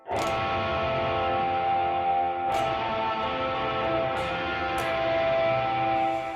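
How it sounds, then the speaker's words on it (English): A sustained synth chord bathed in a wide hall reverb, with a long, washy tail and a few bright transients echoing through the space. "Hall reverb, 63 reverb."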